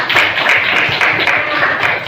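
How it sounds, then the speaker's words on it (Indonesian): A fourth-grade class applauding in a school classroom, a short burst of lively children's clapping, loud and close, with a few rhythmic surges across about two seconds. "Tepuk tangan dulu buat kita semua."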